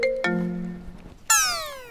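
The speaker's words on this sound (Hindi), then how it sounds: "ओ फोन है उठा उठा लूं" Phone ringtone chiming in a Hindi comedy sketch, two clear bell-like tones followed by a bright, sweeping electronic jingle, loud and close with no talk over it.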